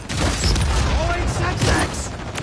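A Semtex grenade going off in Call of Duty MW3 on the Shipment map, a loud chaotic burst of explosions and gunfire filling the short moment, with a voice over the noise.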